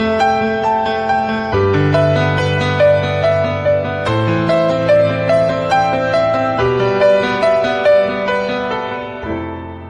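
Improvised piano solo adding melodic flourishes over a steady chordal accompaniment, played loudly and continuously with shifting chords every couple of seconds, no talking.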